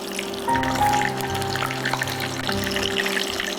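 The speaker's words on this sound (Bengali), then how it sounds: "চিকেন সসেজগুলো আমি দিয়ে দিচ্ছি তেলে" Chicken sausages go into hot oil and fry with a continuous soft sizzling hiss. A low background hum runs underneath, and nobody speaks.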